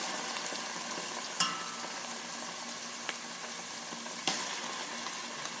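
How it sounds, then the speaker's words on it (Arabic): Tomato sauce hitting a hot pan of onions, peppers and oil while making spaghetti, giving a steady soft sizzle with a few sharp clinks of a utensil against the pan. "دلوقتي هضيف الصلصة بتاعتي."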